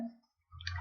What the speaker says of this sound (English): One is by pressing escape button, okay, escape button, which is present in your keyboard